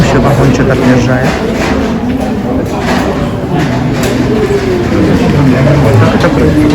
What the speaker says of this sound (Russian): Предыдущий вагончик отъезжает.